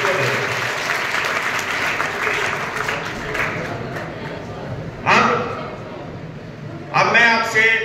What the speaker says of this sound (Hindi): तो एक बार पृथ्वी के लिए जोरदार तालियां।